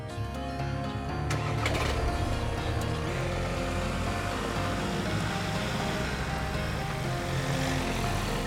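Steady car road noise from a vehicle driving toward Slovenia, a continuous broadband rumble with engine drone running loud and unbroken throughout, no voices over it.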